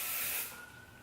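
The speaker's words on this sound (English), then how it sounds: "I'm just gonna go ahead and spritz this" A quick burst of hairspray spritzed onto styled hair extensions, a close airy hiss that starts strong and tapers off within about a second, with no talking.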